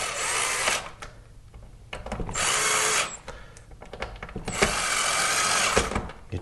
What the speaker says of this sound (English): You tighten your hinge screws back up.